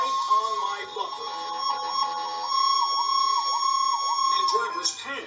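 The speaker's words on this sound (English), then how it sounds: "I didn't hear this fire engine till he's right on my bumper." A fire engine siren wails in repeated rising and falling sweeps, fairly close and steady, heard from inside a car in traffic.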